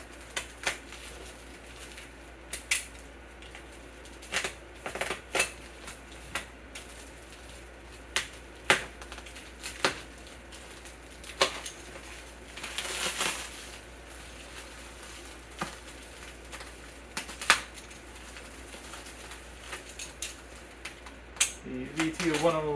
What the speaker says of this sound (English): I gotta get this plastic wrap off, obviously